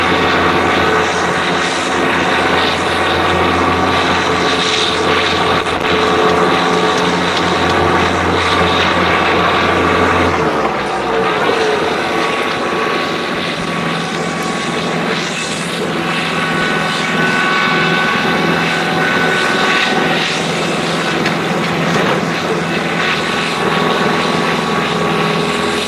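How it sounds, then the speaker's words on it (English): A 2022 Kubota LX3310HSD compact tractor mows along hayfield edges, its engine a loud, steady drone throughout with a brief dip in pitch around ten seconds, heard close with no talking. "Obviously, I'm just mowing here along the hayfield edges."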